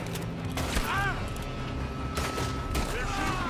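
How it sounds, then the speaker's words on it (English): Gunfire from a building in Red Dead Redemption II, heard as scattered distant shots under a steady wash of game ambience, with a few sharp cracks standing out. "They're shooting from that building."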